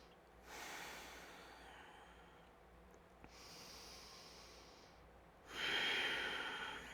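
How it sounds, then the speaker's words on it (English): Deep breathing during a gentle yoga session, with slow, quiet breaths following one another and a stronger, nearer exhale toward the end. "2 more breaths."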